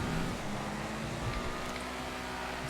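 A Sentinel MW car driven in GTA FiveM, its engine a steady mid-level hum with a faint whine, continuous and unbroken for a few seconds, no talk.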